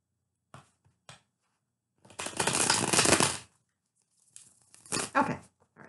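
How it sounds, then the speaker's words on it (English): A deck of tarot cards is shuffled by hand close up. Two quick taps come first, then a long papery riffle, and after a pause a shorter second burst of shuffling follows. No one speaks. "And one more shuffle."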